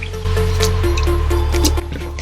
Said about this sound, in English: So okay, so I'm just gonna wet my face